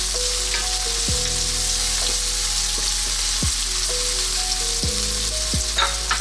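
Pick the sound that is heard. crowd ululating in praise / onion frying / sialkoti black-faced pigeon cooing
onion frying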